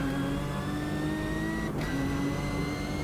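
A race car engine drones loud and close in Automobilista 2 at the Bathurst circuit, holding a steady high-revving tone with a brief gear-change dip midway and no talk.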